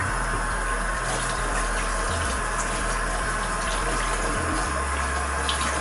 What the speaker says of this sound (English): now we're gonna wash our hands.